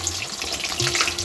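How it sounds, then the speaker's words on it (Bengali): Fish such as pomfret, prawns and parwal frying in oil in a pan, a steady close sizzle and crackle filling the short moment with no talk. "এখানে পটল চিংড়ি পমফ্রেট মাছ ভাজা হচ্ছে"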